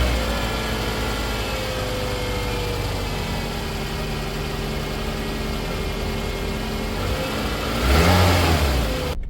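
Engine of a 2008 Scion tC running after a catalytic converter replacement, a steady close idle hum that swells briefly near the end with a short rev before cutting off abruptly.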